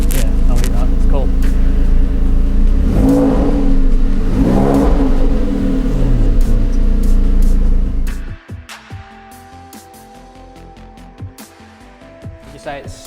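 A Porsche 911 Carrera 2S revs hard with its exhaust valve open, giving loud rising and falling engine blips before cutting to quieter idle and talk.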